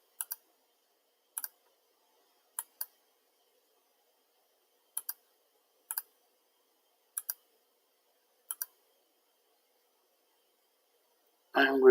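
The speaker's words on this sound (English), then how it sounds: "Let's click this as well." A computer mouse clicks while a software installer is set up, mostly in quick double clicks spaced a second or more apart. The clicks are crisp and close in near silence, and a voice begins right at the end.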